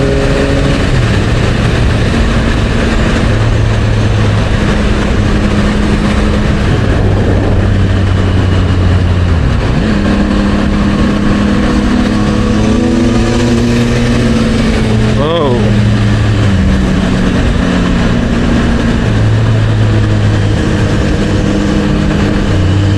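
A motorcycle fitted with a Yoshimura exhaust pipe rumbles steadily at road speed with shifting engine tones and rising revs, heavy wind and traffic noise running throughout as someone talks over it.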